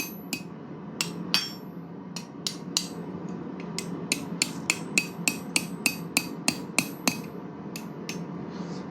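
A hammer beats a piece of metal into shape, ringing out in sharp, bright strikes that start irregular and settle into a fairly steady rhythm of about a dozen blows over a low background hum.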